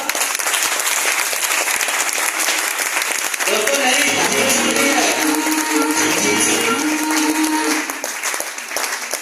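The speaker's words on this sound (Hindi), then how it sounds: "बजाएंगे शानदार उनके लिए तालियां?" An audience at a motivational team meeting claps loudly and continuously, a dense roar of applause that rises and holds, with someone talking and music-like tones underneath midway.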